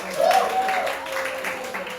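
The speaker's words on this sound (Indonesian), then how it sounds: "Tepuk tangan dulu dong" Audience applause at a Bible quiz contest for senior high school students in Ketapang, a steady crowd clapping that carries through the whole moment with a voice speaking over it.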